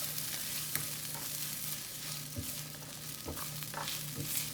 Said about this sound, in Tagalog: Igisa na natin yung sibuyas.